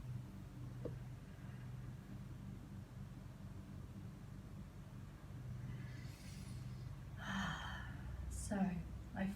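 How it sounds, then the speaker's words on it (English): A final deep breath during a meditation breathing exercise, a soft breathy inhale and exhale that builds near the end over faint background noise. "Last breath."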